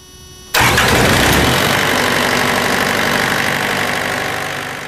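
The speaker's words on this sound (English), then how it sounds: "The unit will then automatically preheat and start." An SB Series refrigeration unit's engine cranks and fires abruptly after a brief quiet moment, then settles into a loud, steady mid-pitched running drone that continues to the end.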